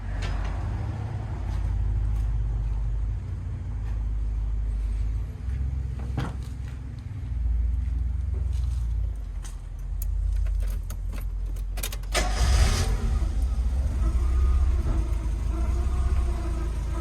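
A small car on its first drive rumbles along with a low engine drone, under scattered rattles and a louder surge near the end. No one speaks.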